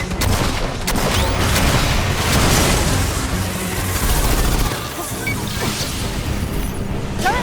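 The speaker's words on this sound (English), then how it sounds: "Dropping an emplacement here." A defensive emplacement drops into place in the sci-fi shooter Aliens: Fireteam Elite, landing with heavy crashing thuds and booms amid dense, continuous combat noise, loud and close throughout.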